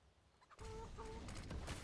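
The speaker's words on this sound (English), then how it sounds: "Bloody chickens." Chickens cluck in the Counter-Strike game on the Inferno map, a few short clucking calls starting suddenly after a quiet moment, close and clear over gameplay noise.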